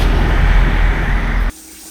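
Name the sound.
truck stop shower water running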